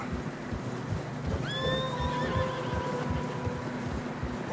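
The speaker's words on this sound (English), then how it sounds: "Horses are struggling." Horses in deep fresh snow in Red Dead Redemption 2 let out a clear, drawn-out whinny midway, over a steady crunch of hooves and ambient wind.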